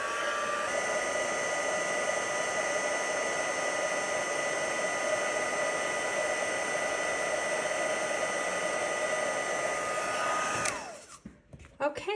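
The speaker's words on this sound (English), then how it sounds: "We'll cover that with white embossing powder and then heat to melt." A heat tool blows continuously while melting white embossing powder on a card, a steady loud whirring hum with a high whine that stops near the end.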